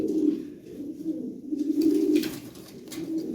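Low, soft cooing of fancy Lahori pigeons repeats in gentle rolling phrases, fairly close, with faint rustling and scratching in the background.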